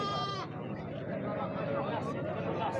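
Goats bleat at a crowded livestock fair in Taquaritinga do Norte, Pernambuco, a high wavering call opening the clip over steady market chatter and nearby talk, with kids and sheep among the animals.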